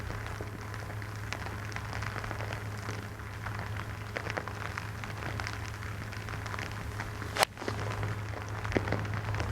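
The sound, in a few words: rain pelting down on a golf course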